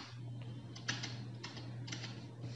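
Computer keyboard keys pressed in a short run of light, close clicks, about five taps over a steady background hum.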